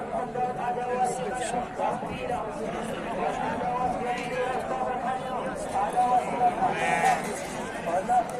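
Sheep bleat amid the bustle of a weekly livestock market in Agdez, Zagora, with the bleats fairly faint under steady crowd chatter and nearby talk.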